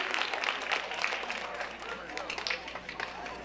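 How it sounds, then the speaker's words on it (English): An audience at a junior high academic awards ceremony claps for the track team, a steady wash of hand claps filling the room at moderate volume with some voices mixed in. "So let's give a round of applause to the track team."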